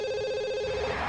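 A telephone rings in the life-simulation video game The Sims. It is a short, steady electronic ringtone, heard alone at a moderate level.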